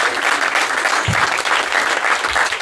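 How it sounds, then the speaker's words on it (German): A stand-up comedy show audience claps in loud, continuous applause, a dense wash of hands with no talk over it. "Gell, mal Applaus für dieses komische Restaurant"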